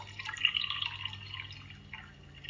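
Leftover drops of water trickle into a glass for tea, a faint, quiet run of light drips and tinkles close by, with no talking.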